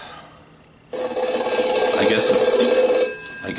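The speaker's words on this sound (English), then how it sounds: "the phone's still ringing." A telephone bell starts abruptly and keeps ringing with a bright, continuous metallic trill, close and loud, while someone speaks briefly over it.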